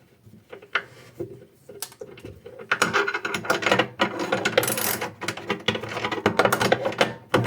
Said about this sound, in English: Hopefully by doing this nut up, I'm going to draw those 4 prongs on the nut up into the underside of the chipboard.